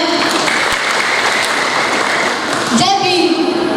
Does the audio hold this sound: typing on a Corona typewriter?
no